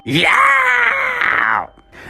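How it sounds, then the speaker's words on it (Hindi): A drawn-out scream sound effect in an animated horror story, loud and close, rising and then sustained for over a second before cutting off into near silence. "और तभी किसी के चीखने की आवाज आती है।"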